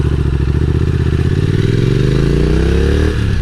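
A 2017 Triumph Thruxton R parallel-twin motorcycle engine runs loud and close, with a steady throbbing exhaust note whose pitch rises smoothly under acceleration before a brief shift or change near the end.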